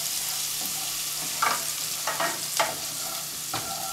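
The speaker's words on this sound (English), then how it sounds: "onions and shallot and garlic. We're gonna saute these for about 1 minute." Onions, shallot and garlic sauté in a pan for a Cajun dinner, a steady close hiss of frying broken by several light stirring scrapes, with no talking.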